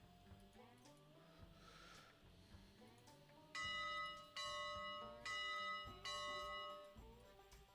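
A locomotive bell in the Railroads Online train game rings repeatedly in a steady rhythm, faint at first and then loud and clanging, with rumbling and soft voices underneath.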